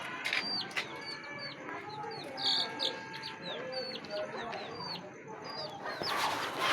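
Chickens cluck and chirp in a poultry setting, with repeated short calls at close to moderate distance over a soft background of insects and faint ambient noise.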